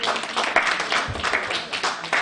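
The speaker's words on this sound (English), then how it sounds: "let's give these guys a warm round of applause as well" Audience applause, a crowd clapping steadily and fairly close, dense and sustained throughout.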